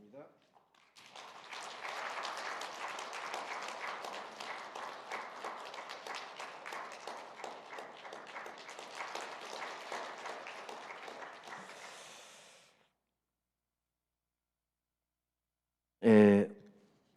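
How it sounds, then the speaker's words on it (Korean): A congregation at a Sunday church service claps together for about ten seconds, steady and moderately loud in a reverberant hall, then it fades to silence before a short burst of speech. "여러분께서 박수해 주시면 고맙겠습니다"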